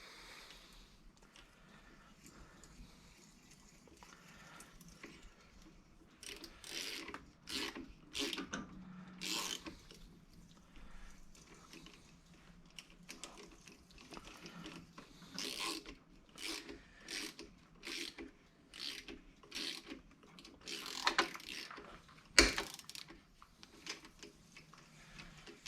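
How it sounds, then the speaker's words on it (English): A hand thread tap chases the threads of transmission bolt holes on a Sears Suburban tractor transmission. It makes a close, quiet series of ratcheting, rasping clicks in short irregular bursts, with no voices. "these threads for these transmission bolts were pretty crappy, so I'm gonna go ahead and tap those out"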